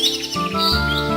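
A sparrow in an animated story chirps as it flies off, a few close, bright tweets layered over a soft sustained musical backing with no voices.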